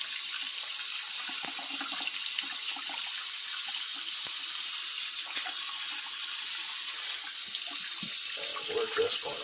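Tap water runs steadily into a sink while a bearded dragon's tank items are rinsed off, a loud continuous splashing rush with small clatters of objects under the stream.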